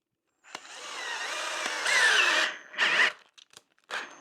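A power drill drives a screw into extruded aluminum, a close whining buzz rising in pitch over about two seconds, then several short bursts as the screw is backed out and run in again.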